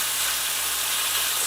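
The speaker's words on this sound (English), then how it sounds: "It's nice and hot and it's sizzling." Chicken pieces hitting a hot cooking pot give off a steady, loud broadband sizzle and hiss, continuous for the whole moment with no voices over it.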